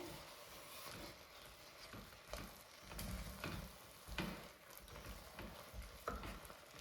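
A flour-and-water dough is stirred continuously in a pan on the heat, producing a low, steady sizzle with soft, rhythmic scraping and thick shuffling under it, heard close and quiet without talk.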